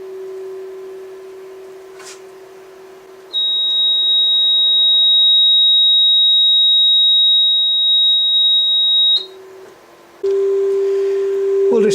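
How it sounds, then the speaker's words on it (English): A steady sine test tone plays through a 500 watt amplifier, first a lower pitch, then a loud high tone, then lower tones again after a brief drop. The tones are pure, constant and strong. "We'll do some frequency response tests. That's 400 Hertz."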